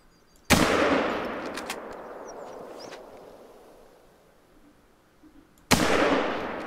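Two loud, close rifle shots at a moose in The Hunter: Call of the Wild, each a sharp crack followed by a long rolling echo, several seconds apart.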